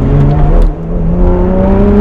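Deep, steady Lotus Evora sports car engine and exhaust drone with rising revs, loud and close, briefly dipping before climbing again.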